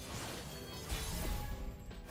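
Heavy smashing impacts in the card game Legends of Runeterra, a dense, loud crash-laden burst with a couple of stronger thuds near the middle, continuous throughout and without talking.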